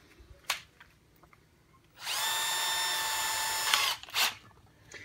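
A power drill whirs at a steady high pitch for about two seconds, near and loud, with brief clicks before and after.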